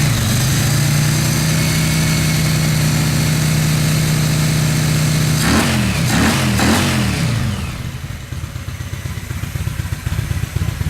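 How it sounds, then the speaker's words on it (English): Yamaha XV1000 motorcycle V-twin running on a single carburetor, idling steadily with a low, even beat for about five seconds, then briefly revved with a few quick throttle blips before settling back to a softer idle. "It's idling right around 850,"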